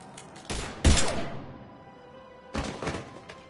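Gunfire in the Mass Effect 3 video game, played on PlayStation 5: a few loud, punchy bursts of shots, one near the start and another cluster toward the end, with a booming thud among them.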